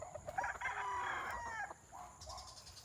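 A rooster crows loudly over faint clucking from other backyard chickens, the crow rising and trailing off, followed by softer clucks, distant and without talk.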